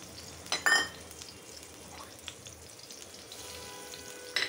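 Onion and spice masala frying in a pan while cooking egg bhuna, a soft, steady sizzle with a couple of louder clinks of utensil against the pan, fairly quiet and close.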